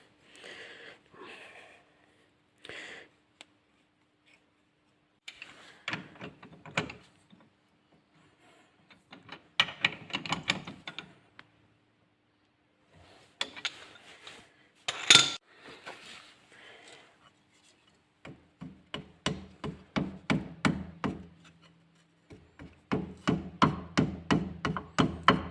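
A flat wrench works on a wheel bolt of a Peugeot 205, giving a run of metallic clicks and ratcheting taps that start sparse and build into dense rhythmic bursts near the end, close up with no talk.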